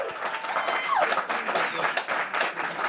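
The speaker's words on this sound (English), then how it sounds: "let's give a big round of applause" An audience at a startup demo day claps briefly, a moderate, fairly faint burst with speech and crowd murmur mixed in.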